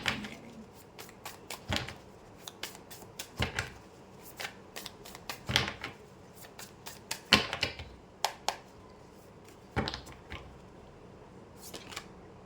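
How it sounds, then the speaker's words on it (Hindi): Tarot cards are shuffled in a series of short, crisp riffling bursts spaced a second or two apart, close and fairly quiet. "सो यहाँ पर आपके पार्टनर के कार्ड शफल कर रही हूँ"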